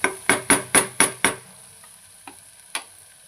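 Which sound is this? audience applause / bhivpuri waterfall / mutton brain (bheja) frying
mutton brain (bheja) frying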